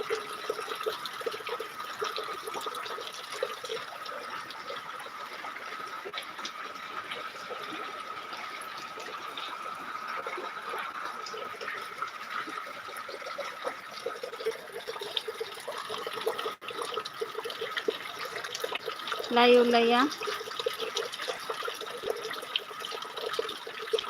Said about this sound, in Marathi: लाईवला या आमच्या गावाकडचा पा पाऊस बघा आणि पाण्याचा ताप बघा किती चाललाय